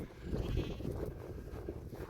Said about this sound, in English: Loads of sheep, as far as the eye can see.